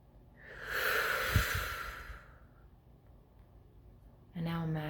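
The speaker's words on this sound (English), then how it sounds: "Breathe in and out." A slow, deep breath is drawn in and let out steadily, close and fairly loud, and a voice begins speaking at the very end.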